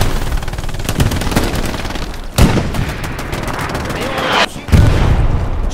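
Artillery and gunfire in Hell Let Loose during a Sainte-Mère-Église offensive: a steady crackle of rifle and machine-gun shots with several sharp, loud blasts standing out, while a player shouts over the battle.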